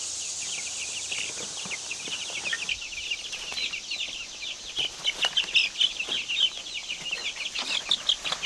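Ranger chicks on grass pasture, a flock of 31, making a dense, continuous chorus of high peeps and chirps that grow busier and louder toward the end.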